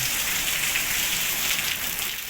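Steady rain falls in a hilly village, a dense, even hiss of drops on surfaces throughout the short stretch with no voices.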